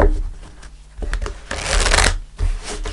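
Tarot Grand Deluxe cards being shuffled at a reading table, a run of crisp riffling bursts with short pauses between, close and fairly loud.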